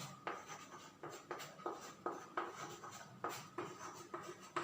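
Chalk or marker writing on a board during a physics lesson, a run of scratchy strokes in uneven bursts with short pauses, close and fairly quiet, no talking.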